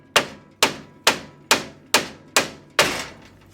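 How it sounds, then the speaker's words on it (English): A hammer smacks a ball joint bolt on a 1964 Chevrolet Impala seven times at an even pace, each a sharp, close metallic hit with a short ringing decay. "So I just smack it with a hammer a few times."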